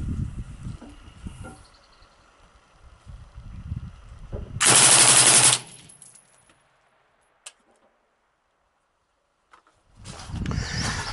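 A MAX-11/15 machine gun fitted with a TAC16 suppressor fires Winchester 5.56 55-grain ammunition with the gas block open five clicks, one loud sustained burst of about a second, then quiet, with a later noisy rumble.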